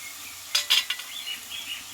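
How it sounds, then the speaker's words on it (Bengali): Boiled dal is stir-fried with spices in a pan: a few sharp metal spoon clatters against the pot, followed by faint scraping and a soft, quiet sizzle. "দিয়ে মশলার সঙ্গে আরও কিছুক্ষণ মতো নিই কষিয়ে নেব ডালটাকে"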